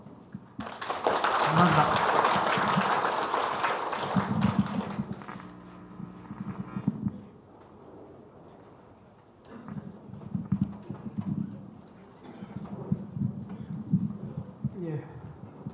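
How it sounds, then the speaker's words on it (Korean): Villagers at a village meeting clapping together, a loud burst of applause in the first few seconds that fades out, followed by people speaking. "주민들이 박수로서 격려해 주시기 바랍니다"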